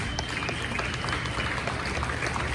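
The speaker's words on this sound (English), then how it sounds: "So give these guys a round of applause." An audience at a music hall of fame induction ceremony applauds a group, a short burst of dense, continuous clapping, loud and noisy throughout.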